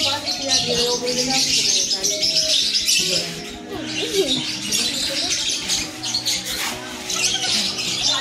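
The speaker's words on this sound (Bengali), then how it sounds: "আর একটা পাখি, তার নামটা এখানে লেখা নেই তো বলতে পারছি না, কিচিমিচিরে ঘুরে আছে।" Several birds chirp, squawk and coo together at Darjeeling zoo, a busy overlapping chorus near and far, with a person talking over it at times.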